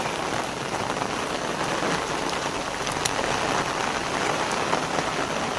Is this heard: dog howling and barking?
no